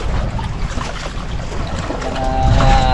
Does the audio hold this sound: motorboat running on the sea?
yes